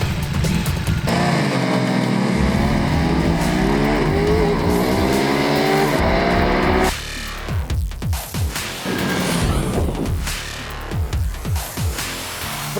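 Ducati Multistrada V4 and Multistrada 1260 Enduro motorcycles accelerating hard on an airstrip, loud engine roar climbing through the gears with rising pitch sweeps, then sharp revving bursts and gear changes, with no talk.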